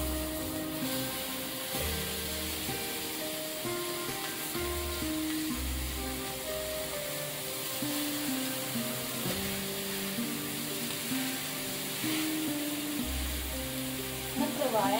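Meat sizzles and fries steadily in a pan covered with foil, a constant crackling hiss with faint clinks, heard close up without speech.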